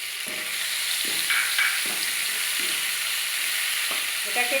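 A ground paste of cumin, ginger and green chili sautéing in a hot pan with salt, a loud continuous sizzle broken by regular scraping strokes of a spatula, roughly one per second, with no talking.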